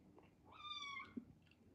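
A cat trying to get into a room gives a single short, faint meow, a brief rising cry heard from indoors behind a door, with a small thump just after.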